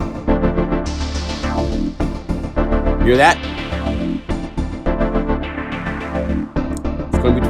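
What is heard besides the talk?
synth patch CC Writer LifeCycles in Unify cycling sounds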